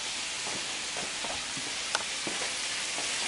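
Potatoes and cut-up sausage frying in a pan give a steady, close sizzle with light scraping and stirring clicks scattered throughout, and no talking.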